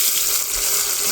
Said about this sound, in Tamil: வெங்காயம் வதங்கி கொண்டிருக்கிறது. தக்காளி போட போறாங்க.